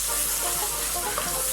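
Curry spice paste mixed with water frying in a wok of sautéed chili, giving a steady broadband sizzle with soft bubbling and stirring throughout, moderately loud and without talk.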